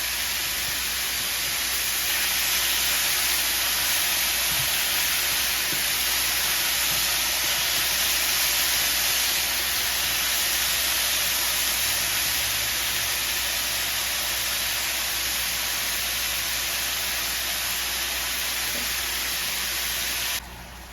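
Chicken fajitas sizzle in a pan, a steady loud broadband hiss and crackle that holds evenly for about twenty seconds before cutting off abruptly.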